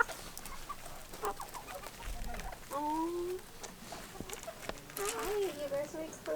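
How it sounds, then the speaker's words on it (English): Chickens in a mixed-animal farm setting cluck and squawk in short, scattered calls, moderately close, alongside people talking. "Dude, you're the prettiest chickens I have ever seen."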